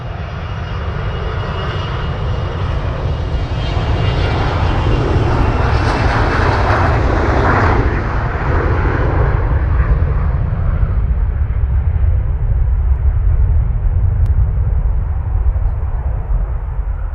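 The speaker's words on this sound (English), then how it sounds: "Where's that aeroplane? Oh, you're there." A fixed-wing aircraft flies overhead at Manchester Airport, its loud engine roar sustained and swelling as it passes close, then easing as it moves away, with no voices.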